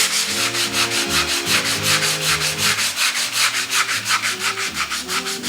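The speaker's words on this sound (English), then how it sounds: "So when I bend it, it'll be a useful piece of sandpaper in our corners here." Rhythmic hand sanding of Bondo body filler on a 1934 Ford street rod's fiberglass body, close and steady back-and-forth rubbing strokes of sandpaper, about a dozen per few seconds, with no talking.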